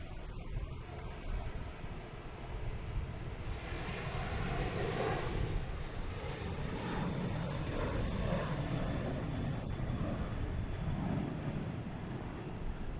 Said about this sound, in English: next departure, we have an American heading to Miami, 737